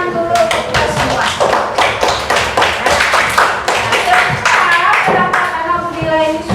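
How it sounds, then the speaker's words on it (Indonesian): A small group claps together during an academic supervision coaching session, with distinct, fairly loud hand claps in a quick, somewhat uneven rhythm, close by. A few voices sound over the clapping near the end. "Kasih tepuk tangan dulu kita semua."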